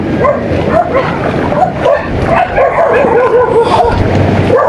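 A dog yips and whimpers repeatedly, loud and close, with short high-pitched barks over continuous noisy background.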